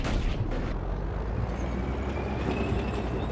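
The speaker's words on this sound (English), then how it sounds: "Let's give them a taste of Serbian cannons" Heavy cannon fire in the war video game Battlefield Yugoslavia, a loud, continuous roar of booming blasts and rumbling vehicle noise that fills the whole stretch with no talk over it.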